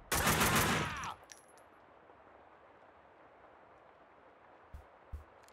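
Rapid burst of gunfire from the Max Payne 2 video game, loud and dense for about a second, then a quiet ambient bed with a couple of faint thumps near the end.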